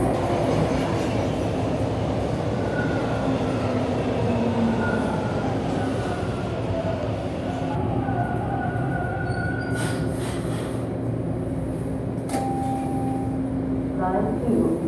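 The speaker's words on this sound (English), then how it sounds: "that train coming" A subway train at Kennedy Station, running out of service, rumbles steadily and loudly with a constant low drone, brief metallic squeals and whines rising near the end, and faint voices mixed in.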